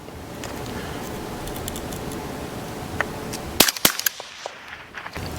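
A rifle fires through a Resilient suppressor, sounding as one sharp, muffled crack over steady background noise, followed by a few fainter metallic clicks and clatters from the action.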